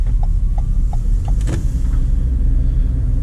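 A car creeps slowly forward on a suburban driving test route, a steady low engine and road rumble filling the interior, with a few soft regular ticks like an indicator and a brief mechanical whir midway.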